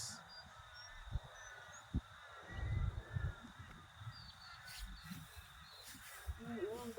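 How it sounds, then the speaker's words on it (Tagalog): Crows cawing among a flock of birds in the Australian countryside, scattered calls carried over wind noise and rustling outdoors, with people speaking faintly nearby. "Oh, look at the birds."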